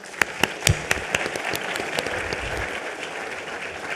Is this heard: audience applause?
yes